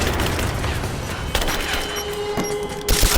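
Grenade blast and gunfire in the Rise of the Tomb Raider video game: dense continuous rattle of shots with a couple of sharp thumps and a louder burst near the end, all fairly close and loud.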